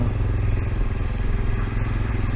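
A motorcycle rolls through flood water in Tikatuli after heavy rain, its engine a steady close drone mixed with churning, splashing water and faint clatter throughout.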